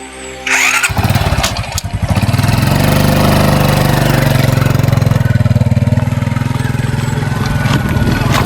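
A motorcycle carrying two riders starts up and settles into a loud, close, steady engine rumble that continues throughout without breaks.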